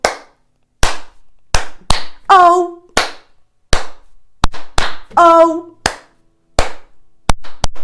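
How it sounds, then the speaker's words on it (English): Hands clap sharp single beats in a steady rhythm, replacing the letters of the children's song "Bingo" during a storytime session. About a dozen crisp claps, close and loud, with brief sung notes between them. "Now we're going to clap for all the letters."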